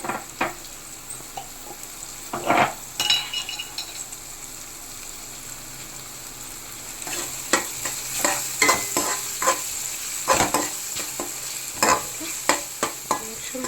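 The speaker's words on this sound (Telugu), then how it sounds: "ఇప్పుడు ఇదంతా పచ్చివాసన పోయేంత వరకు వేయించుకోవాలి" A spicy prawn masala with turmeric fries in a pan, a constant oily sizzle broken by repeated scraping strokes of a spoon stirring the mixture, close and steady.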